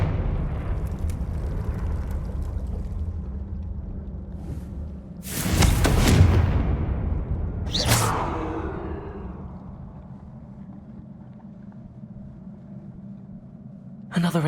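A Confringo blasting spell in Hogwarts Legacy bursts with a loud explosive whoosh and rumble, followed seconds later by a second, shorter blast that fades into low ambient hum. A voice speaks over the start.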